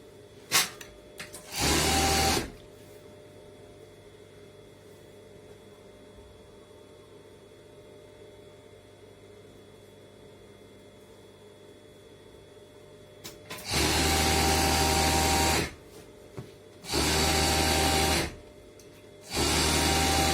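A sewing machine stitches the hem of a dress in short bursts, a fast loud whirring run at first, then a long quiet pause, followed by three more bursts of close, steady stitching.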